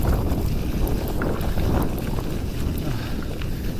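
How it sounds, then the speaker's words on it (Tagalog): Steady, rushing wind noise buffets the microphone from a light headwind during a gravel bike ride, loud and continuous throughout, with no talking. "medyo may konting headwind"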